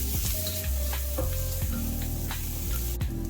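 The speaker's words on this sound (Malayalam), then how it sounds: "ആ ചിക്കൻ അതിലേക്ക് ഇട്ടുകൊടുത്ത് നല്ലപോലെ ഇളക്കി യോജിപ്പിച്ച് ചിക്കൻ ഒരു വെള്ള നിറമാകുന്നത് വരെ സോട്ടേ ചെയ്തെടുക്കാം." Chicken stirred and sautéed in a pan for Kerala-style chicken stew: a continuous sizzle with a few scraping stirs of a utensil, close and fairly loud.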